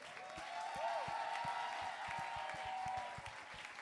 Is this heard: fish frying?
no